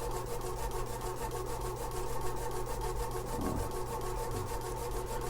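An old HP ColorPro pen plotter draws after years of sitting idle, a steady rhythmic scraping and rubbing of the pen mechanism with a low motor hum underneath, close and continuous, with a brief tonal sweep partway through.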